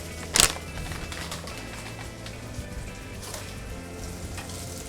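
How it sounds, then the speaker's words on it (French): Boudin blood sausage browning in a pan, a soft continuous sizzle with a sharp clatter near the start and faint scattered crackles. "Le boudin, il faut simplement le colorer."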